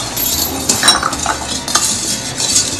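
A spoon stirring pichi pichi batter in a bowl after lye water goes in, soft scraping and clinking strokes repeating close up with no talk.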